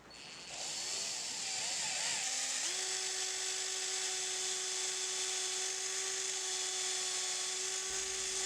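A drill bores a hole through a copper shank while making a print-maker's engraving tool, a steady high-pitched whine that rises in pitch and then holds a sustained tone, loud and close with no talk.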